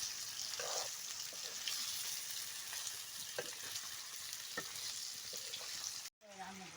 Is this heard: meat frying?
yes